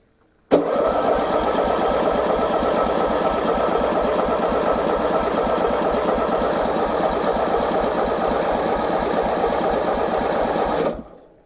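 A ride-on lawn mower engine cranks and runs with the choke on and some throttle, a loud steady mechanical rattle that holds for about ten seconds before cutting off abruptly.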